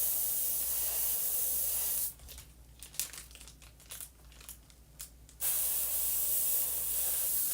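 Spray paint hisses over a stencil in a long, steady, close blast, broken by a few seconds of short sputtering bursts, then a final continuous spray.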